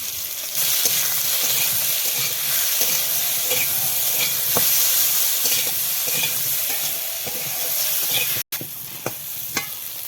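Potatoes fry in hot oil seasoned with salt and turmeric, giving a loud, steady sizzle with scattered stirring clicks and scrapes, broken by one brief dropout near the end.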